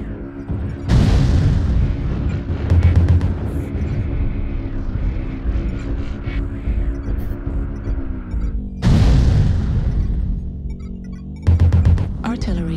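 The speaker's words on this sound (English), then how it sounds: "Artillery strike activated." Artillery strike explosions in a video game boom loudly in heavy rumbling bursts, one near the start and another later, separated by a sustained droning roar with occasional clanks.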